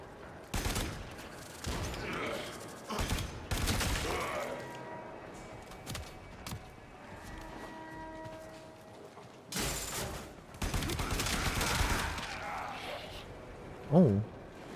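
Rifle fire in a video game from a triple-shot burst weapon: repeated sharp clusters of shots spread through the clip, fairly loud, mixed with game sounds and a bit of speech.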